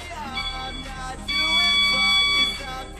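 A steady electronic tone sounds for about a second amid background noise and faint voices, standing out as a clear sustained beep.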